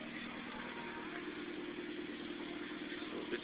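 A Mitsubishi Evolution X with its muffler removed idles steadily, a low, even engine rumble with a faint throb, heard from nearby at moderate level and unbroken for a few seconds.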